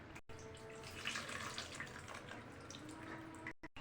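Tamarind water poured into a pot of sambar with drumsticks, a soft continuous splashing pour heard faintly and close.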